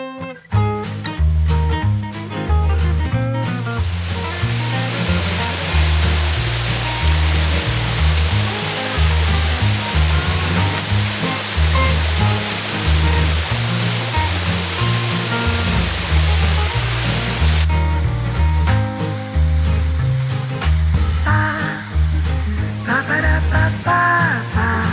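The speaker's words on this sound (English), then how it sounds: "Dark Hollow Falls is one of the most photographed waterfalls in the state of Virginia" Dark Hollow Falls in Shenandoah National Park, Virginia, pours as a loud, constant roaring wash of water, heard under rhythmic background music with a pulsing bass throughout.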